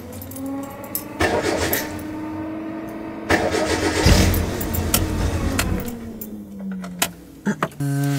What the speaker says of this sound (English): The car is not starting.